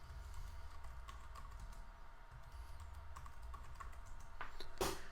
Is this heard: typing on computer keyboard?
yes